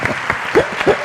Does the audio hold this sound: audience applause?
yes